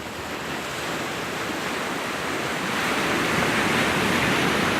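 Steady ocean surf washing onto a shore, a continuous broadband roar that swells slightly louder toward the end, with no voices over it.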